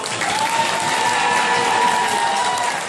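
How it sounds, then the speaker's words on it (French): Sustained audience applause at a stand-up comedy show, a dense, steady wash of many hands clapping throughout, loud and close, with no break. "Les applaudir une fois."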